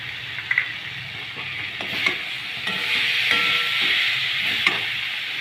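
Small Ganges mourala fish masala with coriander and cumin powder frying in a pan, a steady bright sizzle with occasional stirring scrapes and clinks, growing slightly louder midway.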